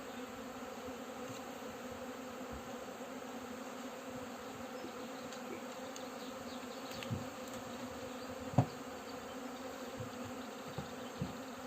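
Honey bees with queens brought from Ukraine buzz steadily around their hive in Spain, a dense continuous hum close to the microphone with a few brief louder passes and light knocks, and no voices.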